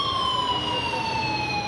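Ambulance siren sounding as vehicles arrive one after another at a hospital, a steady wailing tone over low road rumble, continuous and fairly close.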